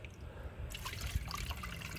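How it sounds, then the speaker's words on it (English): Water pouring and trickling off a gold pan of paydirt as it is swirled, a steady, fairly close wash of splashing that thickens partway through, with no voices. "Pour off a couple of the first pans."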